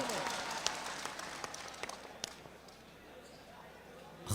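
Clapping from the audience at a mushaira in Nuh, Mewat, starts fairly strong with scattered sharp claps. It thins and fades over a few seconds to near silence, faint and somewhat distant.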